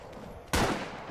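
A single sharp gunshot in a video game, loud and close, cracking out of a quiet background halfway through and trailing off in a short echo.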